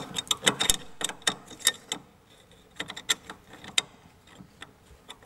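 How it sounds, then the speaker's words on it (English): A 10mm open-ended spanner working the two brake shoe adjuster nuts at the back of a Triumph Spitfire Mk1/Mk2 rear brake, giving a run of close, sharp metallic clicks and ratcheting taps in irregular bursts. "if we need to replace the brake shoe adjuster, there are two nuts around the back. I'm using a 10mm spanner"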